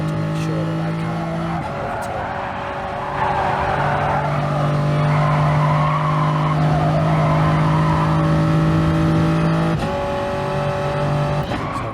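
Gr. 3 race cars in Gran Turismo Sport at Autodrome Lago Maggiore roar with a steady, high engine drone and tire noise, the pitch shifting as the car accelerates, under continuous commentary.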